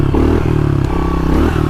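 A motorcycle revving hard through a wheelie, its engine note rising and dipping in quick surges with some clatter, loud and close in a brief burst.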